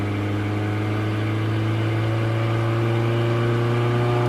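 A car engine held in 3rd gear at about 3,000 RPM on a winding forest highway through Pisgah National Forest, a steady loud droning hum with constant road noise throughout.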